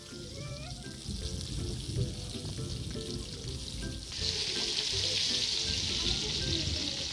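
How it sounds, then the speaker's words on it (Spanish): Mojarra fish frying in hot oil in a pan, a dense crackling sizzle that grows louder and brighter halfway through, with faint clinks in the background. "Y ahora vamos a freír los que queden bien doraditos."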